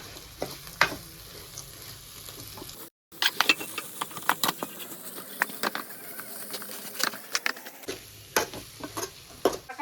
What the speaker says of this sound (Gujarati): આપણે એને હલાવી નાખવાનું છે.